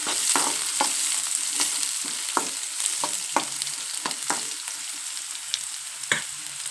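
Leftover chapati pieces with onion roasting lightly in hot oil in a pan: a steady close sizzle runs throughout, punctuated by repeated scraping stirs of a spatula at irregular intervals.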